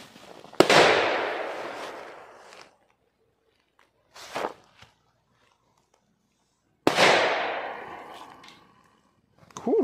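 Small C4 firecrackers set off outdoors during a casual pre-New Year pyrotechnics session: two loud, sharp blasts several seconds apart, each trailing into a long rumbling decay, with a faint shorter crack between them.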